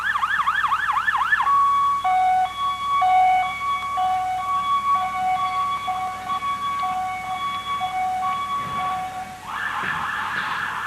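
A 1988 Ford fire truck siren in a parade yelps briefly, then a steady two-tone horn-like pattern repeats, with a rising wail returning near the end, moderately loud.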